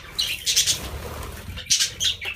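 A pair of budgies in a shed aviary with breeding boxes, with bursts of wing flapping and rustling, plus a few faint chirps, close by and in two clusters.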